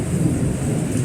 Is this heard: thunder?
yes